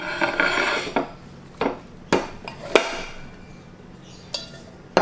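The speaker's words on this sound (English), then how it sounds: "let's put a knife through and release it onto the plate." A knife cuts through sago pudding and releases it onto a plate, producing a series of sharp, separate clicks and taps of metal on the dish at uneven intervals.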